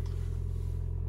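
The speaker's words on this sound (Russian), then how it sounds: "Слышим, что двигатель тоже работает" A 2020 Toyota RAV4 Hybrid engine idles steadily after starting following 3-4 days parked, a low even hum with a faint pulsing throb, close by and unchanging throughout.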